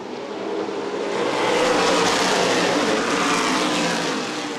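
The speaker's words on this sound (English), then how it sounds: "He's going for third on the outside of Lambert." Late model stock car engines roar around Winchester Speedway's oval, swelling as the pack passes close by and then fading slightly, a continuous loud drone with no talking.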